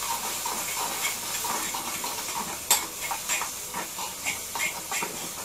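Ginger garlic masala with turmeric frying in a pan, a soft continuous hiss and sizzle broken by a sharp clink and light, irregular scrapes of stirring, close by and with no talking.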